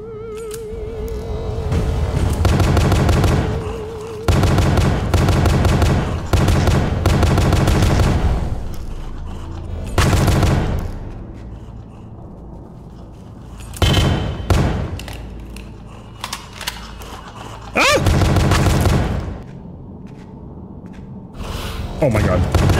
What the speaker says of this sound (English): Or am I just getting my fucking pussy blown out every time I fire a gun?